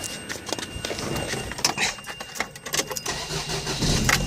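Car engine cranking on a cold start, a run of uneven mechanical bursts and clattering that build toward a rougher catch near the end, close and fairly loud.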